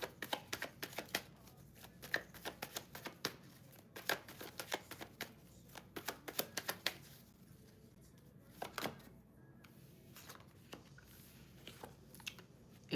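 Tarot cards being shuffled and handled up close, producing quick papery riffles and soft slaps in irregular bursts, fairly faint.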